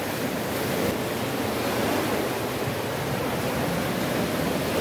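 Ocean waves surge up the sand at Big Bay beach, a continuous, loud, rushing roar of surf with no distinct breaks and no voices.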